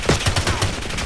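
A quick burst of several muffled pistol shots from Call of Duty gameplay during a competitive match, fired in rapid succession over about a second, fairly close amid background game noise.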